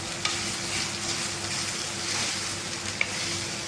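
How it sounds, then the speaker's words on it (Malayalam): Grated coconut sizzles in hot oil in a pan, a dense continuous frying hiss with a couple of sharp utensil taps, close and steady with no talk. "ഇതിനി നമുക്ക് വറുത്തെടുക്കാം"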